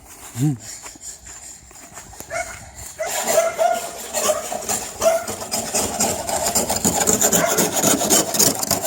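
Frost on a frozen morning is scraped off with an ice scraper: a few soft knocks first, then continuous rough rasping strokes, close and fairly loud.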